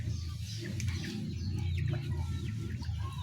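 A chicken clucks in short, repeated calls nearby, with faint bird chirps and a low rumbling background throughout.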